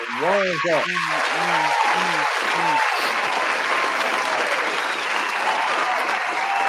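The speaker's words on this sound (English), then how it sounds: "I'm gonna give y'all a round of applause." A round of applause from a crowd fills the space, loud and continuous throughout, with a voice speaking briefly over the start.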